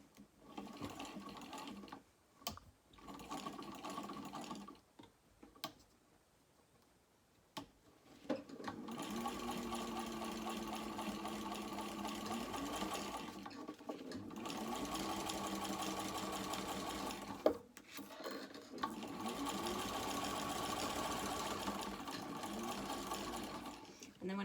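A sewing machine stitches the lining of a small crossbody bag, running in long steady bursts with short pauses between passes, close and fairly loud; a voice talks over the stitching and during the pauses.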